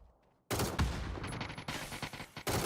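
Gunfire in a PUBG match erupts after a short quiet lead-in as a loud, dense burst of rapid shots with a sharp onset, holds steady with small gaps, then returns in a fresh volley at the end.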